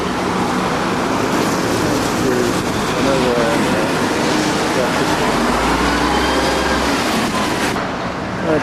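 A UK train at a station, with a steady loud rumble and rolling noise, a low engine drone rising near the end and faint clicks, continuous throughout.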